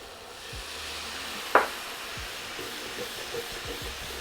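A brief hiss of a splash of water hitting a hot frying pan to deglaze it, with a sharp splash-like burst that fades into low frying sizzle and faint background clatter.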